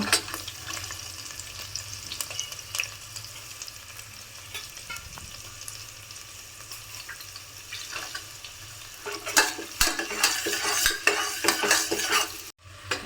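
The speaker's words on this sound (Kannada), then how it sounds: "ಈಗ ಈರುಳ್ಳಿ ಹಾಕಿ ಸ್ವಲ್ಪ ಫ್ರೈ ಆದಮೇಲೆ" Onions sizzle steadily in a pan for a green gram pulao, broken by scrapes and clinks of a metal spatula stirring and knocking against the pan, which grow louder and busier toward the end.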